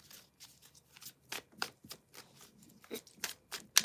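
Playing cards are shuffled in quick, crisp bursts of riffling and snapping, quiet and close, with short pauses between.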